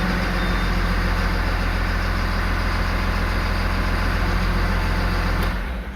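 Caterpillar IT28G loader engine running at a steady idle, a loud, close, continuous low diesel drone with a broad mechanical hum that eases off slightly in the final moment.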